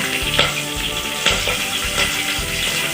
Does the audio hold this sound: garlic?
yes